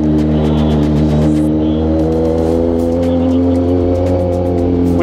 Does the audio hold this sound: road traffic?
yes